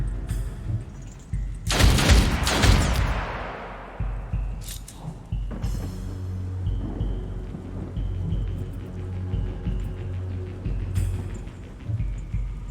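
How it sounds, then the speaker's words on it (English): Gunfire from a video game opens with a loud, close burst of shots and a heavy blast that decays, followed by scattered sharper shots and a low rumbling background. "Now I can start shooting."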